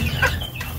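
Pet chickens clucking close by in a backyard, a short loud burst of throaty clucks lasting under a second with no talking.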